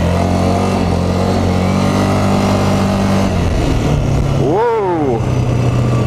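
A cheap used ATV with soft front brakes and steering trouble runs steadily underway, a loud continuous engine drone whose pitch sags and then briefly swoops up and down as the throttle changes, close and constant throughout.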